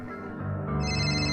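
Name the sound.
telephone ringing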